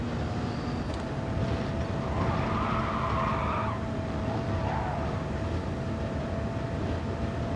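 An Audi race car in a GT Sport race launches off the line, its engine a loud, steady drone that holds from start to finish, with a rising tone sweeping in midway.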